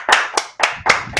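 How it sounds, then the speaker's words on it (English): A handful of sharp, close hand claps in a small podcast room, about five separate strikes in quick, uneven succession, alone with no voices. "I was going to golf clap, just real quiet"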